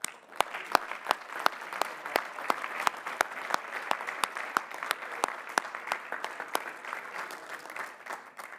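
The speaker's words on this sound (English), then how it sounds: "Please recognize the Doctors of Philosophy with our hearty congratulations and applause." Applause from a graduate commencement and doctoral hooding audience as Doctors of Philosophy are recognized, a steady dense patter of many hands with a few sharp individual claps standing out, sustained throughout and moderately distant.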